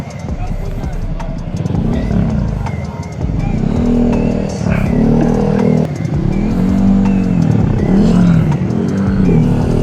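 Many motorcycle engines rev and roar nearby in overlapping waves at a night motorcycle gathering, with people talking over the loud, continuous engine noise.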